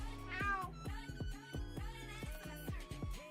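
A man imitating a cat, giving a quick string of about eight meows with rising and falling pitch, close and fairly loud with no other talk.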